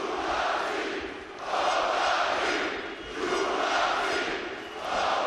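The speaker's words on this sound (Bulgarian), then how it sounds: "Феноменална публика в Арена Армеец." A big boxing crowd at Arena Armeec roars in long swelling waves, a broad wash of cheering and shouting that rises and falls roughly every second and a half, loud and enveloping.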